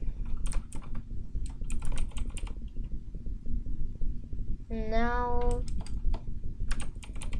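Bursts of clicking keystrokes on a computer keyboard as code is typed, separated by short pauses, with a single spoken word midway.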